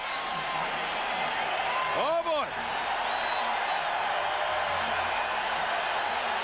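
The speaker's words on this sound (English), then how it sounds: "listen to the crowd here at Eden Park as the Kiwis come out" Dense, steady roar of a large stadium crowd at Eden Park as New Zealand's Kiwis rugby league team runs out for the 1988 World Cup Final against Australia, continuous and loud with a brief whoop and a short spoken exclamation.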